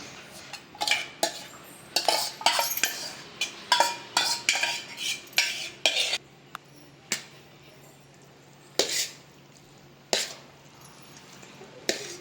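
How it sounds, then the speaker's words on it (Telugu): Cooked rice being mixed with tamarind juice for pulihora in a pot, giving a rapid series of metal spoon scrapes and clinks against the vessel, then slowing to sparse, isolated knocks. "పులుసు ఇలా కలుపుకుందాం ముందుగా బాగా అన్నం అంతటికి పులుసు పట్టాలి"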